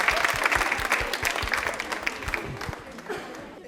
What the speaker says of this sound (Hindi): तालियां जोरदार बजा दीजिए आप इनके लिए